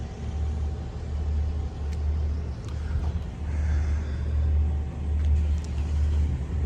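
A 1968 Chevrolet Camaro convertible with a 396 engine and dual exhaust with an X-pipe idles with a deep, steady, low and throaty rumble, swelling slightly in waves, close by and continuous with no talking.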